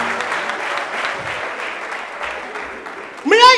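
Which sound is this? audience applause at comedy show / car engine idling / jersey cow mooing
audience applause at comedy show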